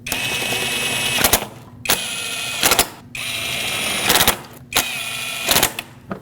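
Hand ratchet snugging bolts on a Lexus IS250 coolant temperature sensor, several bursts of rapid clicking separated by short pauses, close and fairly loud.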